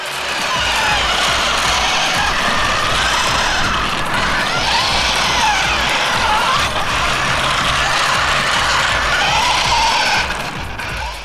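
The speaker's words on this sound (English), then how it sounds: "those motors are actually having to drag the whole front end of the vehicle across the surface" The electric motors of a Fast Lane RC Street Trooper skid-steer toy car whine loudly and continuously while its wheels scrub and drag the front end across the surface, a close, sustained grinding buzz.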